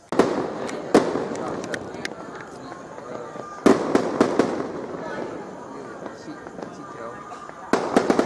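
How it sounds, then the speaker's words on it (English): A long string of firecrackers set off by neighbours during Chinese New Year, giving dense crackling bursts of sharp pops that surge loudly in waves over several seconds. "They are setting up a long firecracker."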